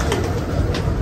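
A pigeon gives a short, low coo close by, brief and soft against a muffled rooftop background.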